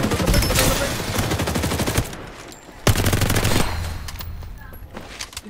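Rapid automatic gunfire in the video game Farlight 84, loud, dense bursts of shots with a short pause before firing resumes, with game voice lines over it.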